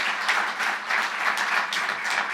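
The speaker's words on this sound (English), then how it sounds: "A big round of applause to you." An audience at an exhibit opening reception claps warmly, a sustained wash of applause with slight swells that continues unbroken for a couple of seconds.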